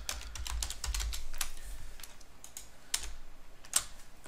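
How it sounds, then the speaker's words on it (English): Rapid keystrokes on a computer keyboard, a fast run of close clicks with a short pause and a few more taps, near and fairly quiet with no talking. "let's go ahead and type out the word Giants."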